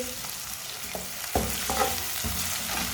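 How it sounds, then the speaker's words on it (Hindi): Steady sizzling of ginger and garlic frying in a pan, with a few scraping stirs partway through, close and moderately quiet, no talking. "1 मिनट के लिए मैंने पका लिया है अदरक और लहसुन को"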